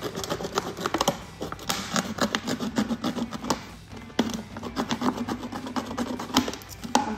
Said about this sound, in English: I'm just going to use a craft knife to get this started and probably run it along the top